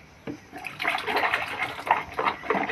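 Water splashes and pours in irregular bursts while a dog is bathed, its face being washed with plain water, the splashing close and fairly loud with no talk over it.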